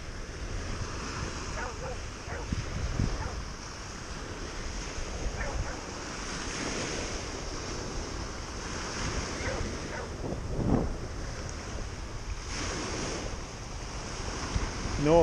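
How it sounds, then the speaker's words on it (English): Breezy outdoor wind rushes and buffets steadily, with gusty swells and a surf-like roar throughout, fairly loud and close to the microphone. "It's too breezy, I think."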